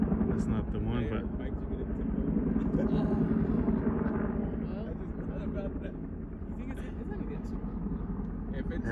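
A twin-rotor helicopter hovers nearby while picking up water to fight a nearby fire at Balch Park, its steady heavy rotor drone running loud and continuous under outdoor chatter.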